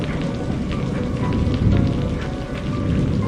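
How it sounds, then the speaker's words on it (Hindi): Steady rain falling on a surface, a dense continuous patter that stays loud and even throughout, with no voices. "बारिश होने लगी थी।"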